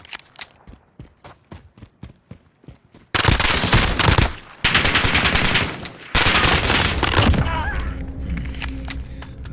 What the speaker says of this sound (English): it takes about 2 bursts in order to kill someone just by hipfire